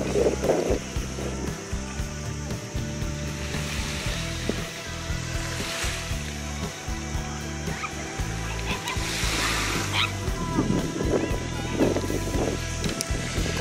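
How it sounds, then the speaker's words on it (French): Steady wind at a lake in Ibiza buffets the microphone with a constant low rumble and hiss, gusting louder at times, with faint background sounds beneath. "Il y a du vent"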